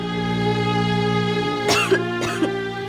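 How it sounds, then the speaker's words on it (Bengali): A person with a persistent cough that medicine has not eased coughs twice in short, harsh bursts against steady background music. "কত ওষুধ খেয়েছো, তারপরেও ওর কাশিটা তো কমছেই না"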